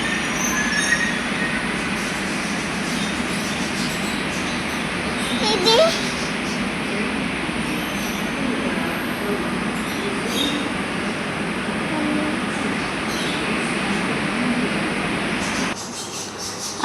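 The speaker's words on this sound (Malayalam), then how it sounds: "അങ്ങനെ ഞങ്ങളുടെ മെട്രോ വന്നു." A metro train pulling into a station platform, a loud continuous rumble with wheel squeal and faint rail clatter lasting throughout, heard up close from the platform with brief faint voices in the background.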